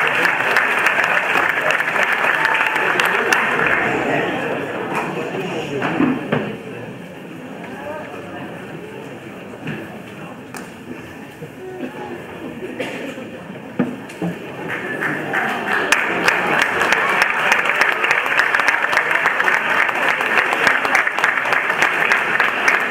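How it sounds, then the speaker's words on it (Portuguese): Audience applause at a Carnival bailinho dance performance in Porto Judeu, a dense sustained clapping from a large crowd that dips slightly midway and swells again, with voices mixed into the noise. "uma salva de palmas."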